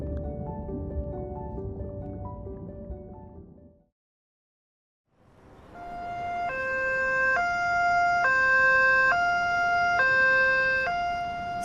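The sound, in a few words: ambulance siren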